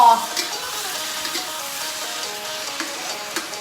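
Stink beans (sator) are stir-fried with shrimp paste and minced pork in a pan, making a steady, close sizzle with small scraping stirs and faint clicks throughout.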